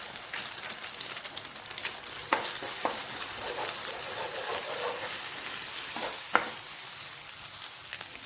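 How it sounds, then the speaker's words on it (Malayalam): Two eggs sizzle and crackle steadily in a frying spice paste while being stirred and scrambled, with occasional scraping clicks from the utensil. "ഇതിലേക്ക് 2 മുട്ടയും കൂടെ ഒഴിച്ച് ഒന്ന് ചിക്കി തോർത്തിയെടുക്കാം."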